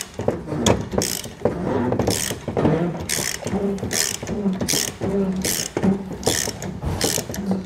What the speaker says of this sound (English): We need to go ahead and lower our spare tire here.